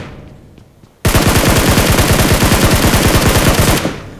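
A Scar assault rifle in PUBG Mobile fires a loud, sustained full-auto burst of evenly spaced rapid shots. It starts abruptly after a quiet second and cuts off near the end.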